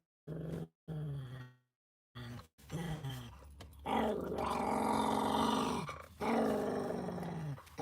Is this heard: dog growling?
yes